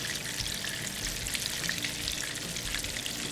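Fish fillets for Danish fiskefilet fry in plenty of oil, giving a steady, close crackling sizzle with small popping bursts that holds unbroken and fairly loud throughout, with no talking.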